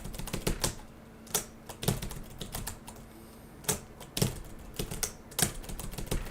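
A computer keyboard clatters close by as someone plays the platformer game OvO. Sharp individual key clicks come in irregular quick bursts over a faint background hiss, with no speech.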